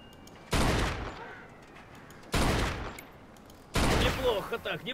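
Gunfire in the Mafia 2 video game: three loud, close bursts of rapid shots separated by quieter pauses.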